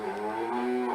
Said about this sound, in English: Here's the farmer. He has cows